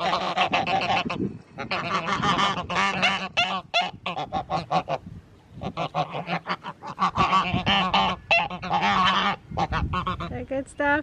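Geese honking loudly and close while being fed leaves, a dense run of overlapping nasal honks in bursts with short pauses, several birds calling at once.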